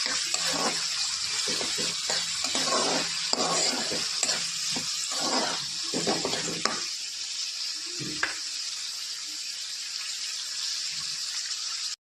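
Cinnamon, bay leaf, cardamom, onion and green chilli tempering in hot oil give a loud, steady sizzle with stirring scrapes for the first half, then the frying hiss continues alone with an occasional clink.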